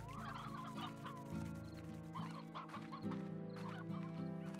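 Several chickens clucking in Slime Rancher, a scattered series of soft clucks and calls over a sustained game music backdrop, quiet and without talk.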